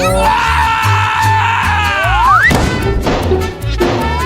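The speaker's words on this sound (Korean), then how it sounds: "풍선이 곧 터지겠어" Cartoon balloon bursting in a big explosion, a sudden loud blast and crash near the middle cutting through busy music and voices, followed by a rumbling, noisy aftermath.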